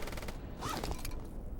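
Gunfire in the video game STALKER: Shadow of Chernobyl, a short burst of distant shots and cracks over a steady noisy background, lasting under two seconds with no speech.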